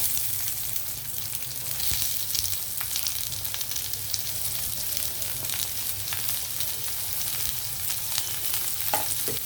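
Onions frying in hot oil with cumin, mustard seeds and dried red chillies for a ridge gourd coconut fry, a steady close sizzle throughout with occasional small pops and crackles.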